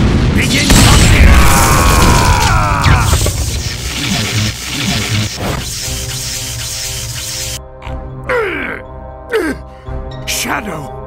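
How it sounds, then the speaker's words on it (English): Heavy booming cannon blasts in a Shadow the Hedgehog video game battle with Dr. Eggman, one after another, with dense rumbling effects and voices talking over parts of it. "Upper cannons, open fire! Shoot him down!"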